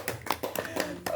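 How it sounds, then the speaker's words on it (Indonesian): Handclaps from an audience at a business presentation: about half a dozen sparse, separate claps at an uneven rhythm, fairly quiet and close, with no steady ovation. "Luar biasa ya. Tepuk tangan dong."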